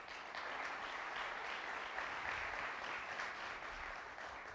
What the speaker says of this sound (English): Let's give Carrier a round of applause